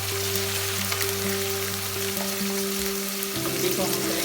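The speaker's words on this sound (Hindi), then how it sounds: "इधर तो हमारा ऑयल गर्म हो गया है। अब हमने इसमें डाल देंगे भिंडी।" Okra dropped into hot oil and frying, a steady close crackling sizzle like rain on a surface, with a low hum underneath and occasional stirring clatter toward the end.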